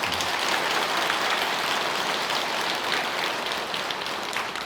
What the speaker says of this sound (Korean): 그분들께 박수 한번 보내주십시오.